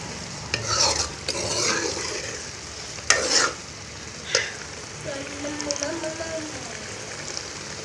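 Minced mutton keema and potatoes fry in a pan over a medium flame, giving a steady sizzle broken by several loud scraping stirs of the spoon against the pan.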